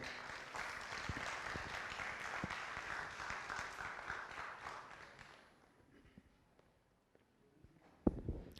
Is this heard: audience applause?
yes